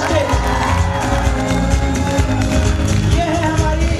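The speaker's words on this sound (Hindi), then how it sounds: "एक बार जोरदार तालियों के साथ में प्लीज हेल्प मी वेलकम" Dense crowd applause and cheering fill a stage event welcoming an international trip achiever at a recognition ceremony in Indore, loud and continuous throughout.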